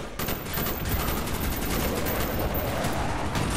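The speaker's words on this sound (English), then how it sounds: "There's just explosions all over the fucking place." Constant gunfire and explosions roar in the Call of Duty: Black Ops (2010) video game, a dense, loud barrage of rapid automatic shots and blasts running unbroken throughout.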